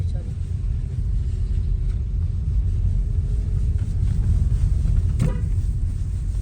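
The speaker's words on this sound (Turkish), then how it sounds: "Araba geliyor hemen şöyle git." A car approaches along a snowy road as a steady low rumble that builds only slightly, with people talking nearby.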